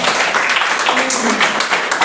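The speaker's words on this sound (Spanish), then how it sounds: "Vamos a dar un fuerte aplauso al Señor" A church congregation breaks into loud, steady applause and cheering, a dense wash of clapping close and all around for the whole stretch, with a few voices calling out over it.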